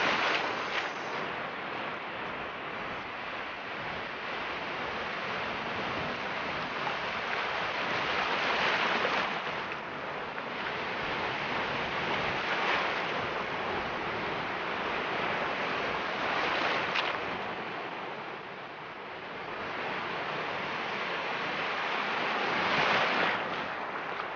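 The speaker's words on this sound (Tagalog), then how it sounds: "ang lalaki ng alon" Big ocean waves roll and crash onto a surfing beach at Bagasbas, forming a continuous loud roar of surf with swelling peaks and steady wind noise over the microphone.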